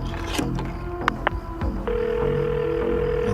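A payphone call being placed to a police department: scattered clicks and handset clatter, then a steady electronic telephone tone held for over a second, heard quietly with no voices.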